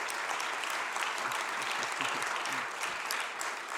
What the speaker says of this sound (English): A round of applause for all of our candidates.